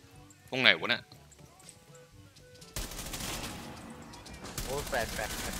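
Bursts of rapid gunfire in Rainbow Six Siege crackle in quick succession, alternating with short stretches of quieter sound and some background activity.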